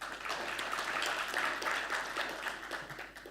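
An audience at a formal conference event applauds a guest, steady dense clapping from a crowd that holds for a few seconds and then begins to thin.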